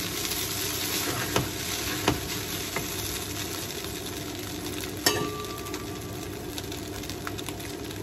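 Fried rice is stirred in a heavy pan over a steady sizzle, with intermittent scraping knocks from the spatula against the metal, fairly faint and without talking.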